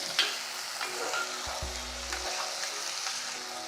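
Vegetable pieces, including green beans and potato, frying in oil for semiya upma, a steady close sizzle with a stirring scrape and a brief low thump.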